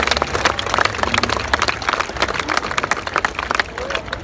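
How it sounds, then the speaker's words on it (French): A crowd at a bike fest applauds Thomas, a trial motorcycle rider, with dense, lively clapping mixed with cheering and crowd chatter, loud and close throughout. "Applaudissements pour Thomas"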